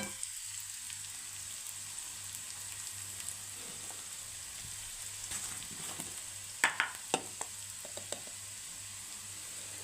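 Garlic sautés in oil in a pan for garlic pickle, giving a faint, steady sizzle with a few sharp stirring clicks and scrapes near the end.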